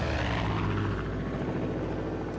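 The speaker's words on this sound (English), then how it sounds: "This plane is not after me anymore" A propeller airplane drones steadily overhead in Far Cry 5, a loud continuous engine hum with a throbbing, buzzing texture that holds at an even level throughout.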